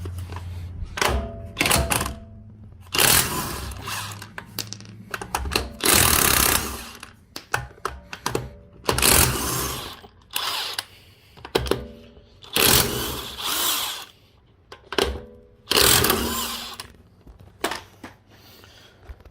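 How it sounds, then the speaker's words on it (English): Lug nuts coming off a 2011 Audi A4 with an 18mm socket on a power tool, repeated loud rattling bursts of impact hammering separated by short pauses, close and without talk. "we're going to get ourselves an 18mm socket, and we're going to go ahead and take off these lug nuts"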